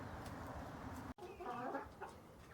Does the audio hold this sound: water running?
no